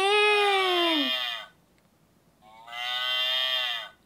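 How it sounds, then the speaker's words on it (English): A cow moos twice, a long, loud, clear low call that slides downward, then a pause of silence before a second, shorter moo, with nothing else audible. "You said in and the cow mooed."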